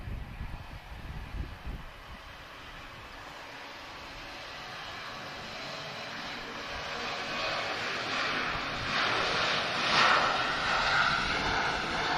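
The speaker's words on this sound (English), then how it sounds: "So he's off to Bordeaux, 737-800 from Ryanair." A Ryanair Boeing 737-800 jet departs Lisbon Airport, its engine roar swelling gradually from a distant rumble to a louder broadband whoosh over twelve seconds, with no voices.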